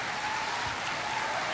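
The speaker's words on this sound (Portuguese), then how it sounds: "Aplauda mais forte. É para aplaudir de pé" A church congregation applauds at a worship service, a steady wash of clapping heard from some distance, fairly faint and continuous for a moment without clear individual claps.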